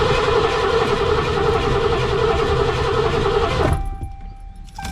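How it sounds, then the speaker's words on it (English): A 1988 Foxbody Cougar engine cranking over on the starter, a steady loud mechanical churn held for several seconds before cutting off abruptly, with a faint tail of quiet afterward. "Here we go, we're gonna crank."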